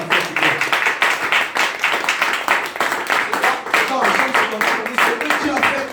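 A church congregation claps and cheers during a French-language sermon, dense rhythmic applause filling the room and staying loud and steady throughout.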